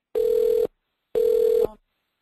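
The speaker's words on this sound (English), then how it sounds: "We have this obviously nagging phone ringing." A telephone rings insistently during an online video meeting, two loud electronic ring bursts of about half a second each separated by a pause, close and clear with no talking over them.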